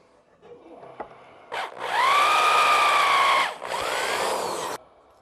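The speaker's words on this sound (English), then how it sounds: "so I'll drill that hole next." A power drill whirs up loudly as it bores a hole, holding a steady high whine for about two seconds, briefly stopping, then running again before cutting off.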